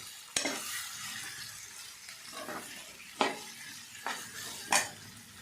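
Chopped mango pieces are stirred through a cooking mix in a pan, a soft sizzle running beneath while four or five sharp scrapes and clinks of the spoon against the pan land at irregular intervals.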